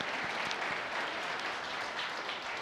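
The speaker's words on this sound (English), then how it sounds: "How about a big round of applause for Chanel?" A keynote audience claps steadily and densely throughout, a sustained wash of applause with no voices over it.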